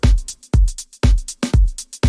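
A punchy live drum groove from soulful live drum samples: booming kicks and crisp snare hits with shimmering cymbals, repeating in a steady, laid-back pattern.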